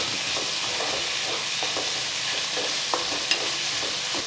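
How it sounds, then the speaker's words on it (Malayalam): Tomatoes and curry leaves sautéing in a pan for a Kerala-style cabbage curry, a steady close sizzle with frequent scraping stir strokes and a couple of sharp clinks, no talking. "തക്കാളി ഇട്ട് ഇളക്കി ഇതെല്ലാം കൂടെ ഒന്നുകൂടെ ഒന്ന് പഴത്തിയെടുക്കണം"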